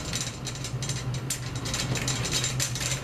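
A drum key turns a tom's tension rod during drum kit tuning, giving close, continuous metallic ratcheting clicks and small grinding squeaks at a steady rhythm with no talk.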